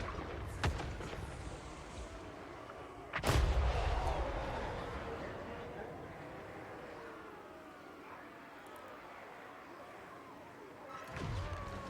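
Artillery fires in a Total Warhammer 3 battle against Chaos Dwarfs' foes, several heavy booming shots with rumbling decay over a background battle din, one loud blast standing out among fainter reports.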